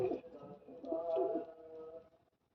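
A pigeon coos nearby in soft, low, throaty rolls that swell and fade, in a quiet setting.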